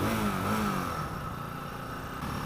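A Mash TT40 single-cylinder four-stroke motorcycle engine runs steadily with a low throbbing note and mechanical clatter, fairly quiet and alone without talk.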